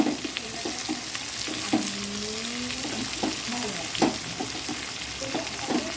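Onions sizzle and fry in hot oil in a pan beside lifted-out potatoes, a steady crackling hiss with scraping stirs and soft utensil knocks throughout, close and moderately loud, with no speech.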